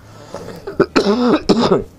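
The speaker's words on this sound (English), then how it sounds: "Sorry guys, I've got a bit of a cough." A man coughs a few times in quick, harsh bursts indoors, close to the microphone, with quiet pauses between the coughs.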